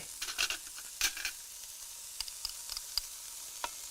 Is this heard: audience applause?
no